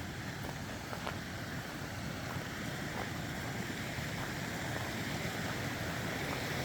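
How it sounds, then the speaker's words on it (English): Creek water flows near a Colorado campsite in a steady broadband rush, continuous and fairly close, mixed with some wind, and nobody speaks. "take you down to the creek here"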